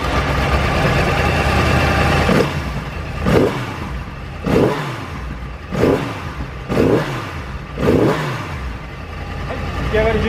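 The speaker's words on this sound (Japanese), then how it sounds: "ではエンジン始動です。" A Yamaha YZF-R1 sport bike fitted with a Yoshimura dual exhaust idles, then blips the throttle in five sharp, evenly spaced revs that rise and fall back to a rumbling idle, loud and close, with people talking nearby.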